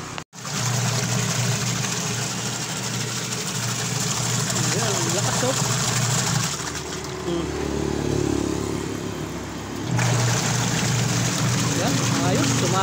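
A repaired washing machine runs after its wash motor was fixed, giving a steady, loud motor hum and churning drone close by, with a person talking over it at times.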